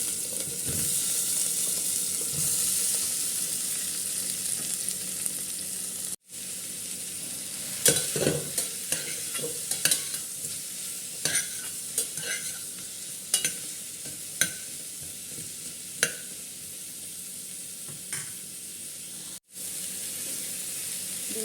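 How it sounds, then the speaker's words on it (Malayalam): Green chilies, sliced onion and a small piece of ginger frying in oil inside a pressure cooker, a steady sizzle with frequent sharp spatula scrapes and clicks of stirring, close and loud, no talking. "ഒരു കുക്കർ അടുപ്പത്ത് വെച്ചിട്ടുണ്ട് അതിൽ കുറച്ച് എണ്ണ ഒഴിച്ചു കൊടുത്തു ഇനി നമുക്കതിൽ രണ്ട് പച്ചമുളക് രണ്ട് സവാള അരിഞ്ഞത് ഒരു ചെറിയ കഷ്ണം ഇഞ്ചി ചേർത്ത് കൊടുക്കാം"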